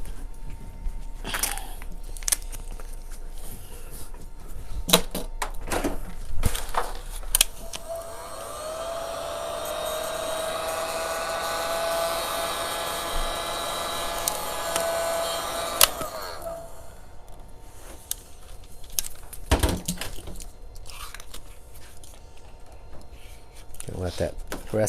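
Heat gun warming vinyl wrap on a mini fridge, a steady blowing hum in the middle stretch surrounded by handling clicks and taps, with a voice talking nearby.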